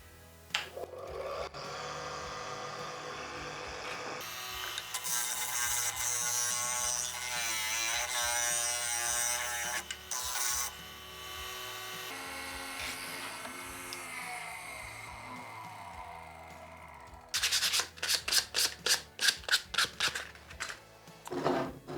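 Beech wood being sanded with a power sander for a DIY marking gauge, a steady loud buzzing drone that shifts in pitch, then gives way to a series of short rhythmic pulses near the end.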